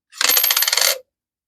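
Coins clatter into a coin tube in one continuous metallic jingle of rapid clinks lasting under a second, close and loud, with no voices.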